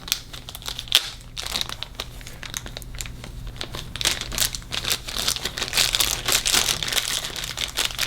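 Plastic packaging crinkling and crackling as a brand-new black Boker King Cutter straight razor is unwrapped, close and fairly loud, in irregular rustling bursts with a sharper snap near the start.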